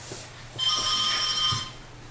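During a Sunday church service, a mobile phone rings with a steady electronic tone lasting over a second, moderately loud over the room's low hum.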